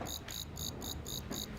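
A pet katydid chirps in a rapid, regular series of about seven sharp bright pulses, close and clear over a quiet room.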